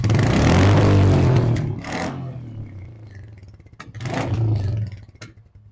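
A used Royal Enfield Bullet motorcycle engine runs close by, a loud thumping rev at the start that drops back to idle, then a second blip of throttle before settling again.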